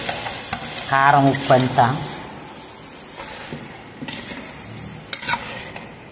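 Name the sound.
chili curry cooking and bubbling in a pan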